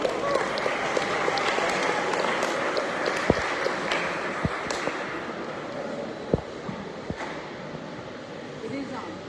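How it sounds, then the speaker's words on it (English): Audience applause for a presenter at a community conversation on the Belize constitution and its reform, a broad steady wash of clapping from a crowd with a few sharper claps standing out, sustained throughout and fairly close. "Let's give him a round of applause."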